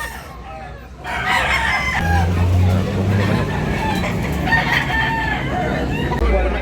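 A rooster crows at a market where fighting cocks are being sold in Tabunok, Cebu, its call rising over steady crowd chatter and nearby talk.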